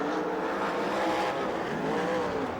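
USAC/CRA sprint cars roar around the dirt oval at Perris, California, a loud, dense, unbroken engine drone from several cars racing together, with no break in the noise.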